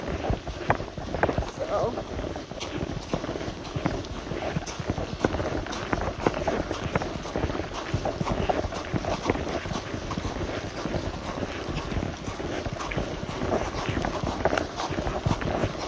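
Footsteps crunch along a gravel horse path on a rainy walk in a steady walking rhythm, close and loud, with wind buffeting the microphone throughout.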